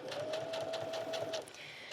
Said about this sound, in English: So we're just going to go ahead and get started by sewing.